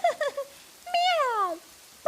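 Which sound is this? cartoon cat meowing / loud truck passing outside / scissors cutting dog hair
cartoon cat meowing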